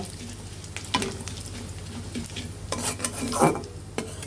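Panch phoron spices crackle in hot oil as kochu shak is cooked without onion or garlic, a soft close sizzle with a few stirring scrapes and clinks against the pan.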